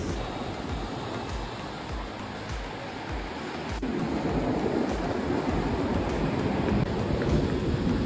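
Sea waves and wind on an Ibiza beach give a constant, loud wash of surf with gusting wind buffeting the microphone, and the roar swells a little halfway through, with no voices.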